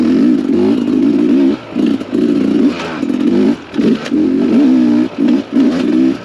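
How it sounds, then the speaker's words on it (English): A two-stroke Smartcarb dirt bike engine revs hard in repeated bursts, dropping briefly between throttle blips, with a loud buzzing close-up tone and some mechanical clatter. "throttle response is so much different with a Smartcarb bike"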